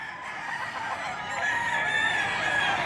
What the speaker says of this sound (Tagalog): Paradang manok dito.